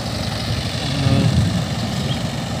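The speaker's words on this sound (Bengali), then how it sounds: "পাওয়ার টিলার নাকি ধান চষা মেশিন, এই মেশিন দিয়ে কাজ করছেন কত সুন্দর করে" A power tiller's engine churns through a rice field in a village, a loud, steady low rumble nearby that rises slightly midway, no talk.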